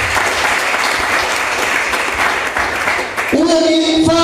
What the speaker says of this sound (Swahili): Hebu jipigie makofi mazuri.